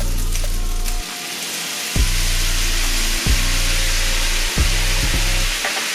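Soy sauce hits pineapple fried rice in a hot pan, giving a loud, steady sizzle close up over a low humming drone that cuts out and returns several times, with no talking.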